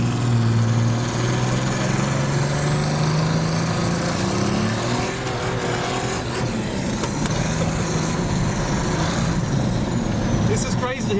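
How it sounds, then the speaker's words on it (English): Turbo diesel old Chevy truck engine, tuned to about 500 hp, revs hard with a loud, steady high-pitched whine and rising tones held close up for the whole stretch, with faint voices underneath. "It's just crazy to hear a diesel do something like that."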